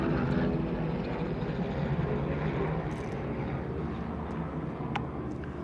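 A helicopter passes overhead outdoors, a steady low rumbling drone with rotor throb that stays at an even level throughout, moderately distant.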